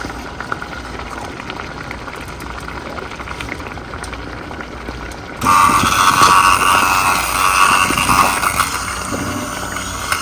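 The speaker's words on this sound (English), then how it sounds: "I'm going to use my upright blender." An upright blender blending cooked watermelon, a steady rushing whir that jumps to a much louder, harsher roar midway as the blades speed up, close and continuous without talk.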